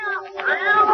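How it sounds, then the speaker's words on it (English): A single drawn-out cat meow, close and fairly loud, rising and wavering in pitch. "Here, kitty, kitty, kitty. Don't go away, kitty."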